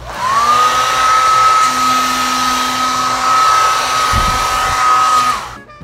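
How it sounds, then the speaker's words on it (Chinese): A hotel room hair dryer runs loud and close, with a steady high whine that spins up at the start, holds for about five seconds, then cuts off. "然后再来看一下吹风机"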